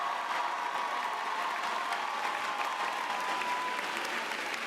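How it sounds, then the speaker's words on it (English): Steady audience applause at a College of Education and Human Development graduation ceremony, honoring master's degree students; continuous, even clapping from a large crowd in a hall, moderately distant and unbroken. "Let's give our master degree students a round of applause."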